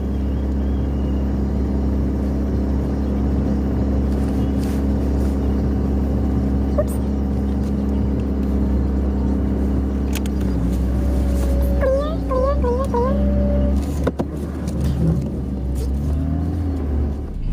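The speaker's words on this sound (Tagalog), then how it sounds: "Ngayon, lalabas na ako dito sa garahe." A small car backs out of a home garage, its engine a steady close rumble that continues throughout, with a brief rev, a few light clicks and chirps near the end.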